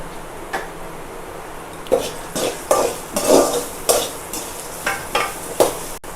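Onions sauté in a pan for a carrot and beans poriyal. A spoon scrapes and stirs in irregular strokes over a low, steady sizzle, close and without talking.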